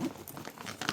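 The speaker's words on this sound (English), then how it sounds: "Take this bubble wrap out of here" Bubble wrap crinkles and rustles as it is pulled out of a golf cart bag during unboxing, a close, steady crackling with a sharper burst near the end.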